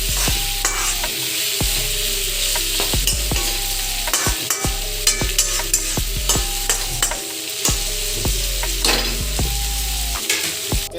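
Tomatoes frying in a pan for an Assamese dried fish chutney, a steady close sizzle broken by regular scraping stirs of a spatula against the pan, continuing throughout with no talk.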